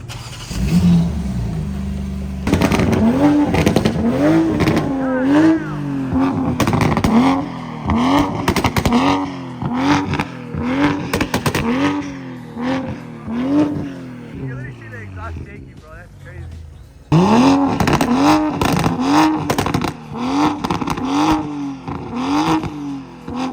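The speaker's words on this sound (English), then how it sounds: "We're about to test drive this A90 right here." A Toyota Supra A90 on a test drive, its engine humming and briefly revving underneath near, nearly continuous talk from people inside the car.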